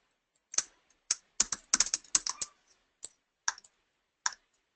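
Crisp keystrokes on a computer keyboard as a folder name is typed in a file manager, arriving in short irregular bursts and a few isolated taps with quiet gaps between, close and moderately loud, no voices.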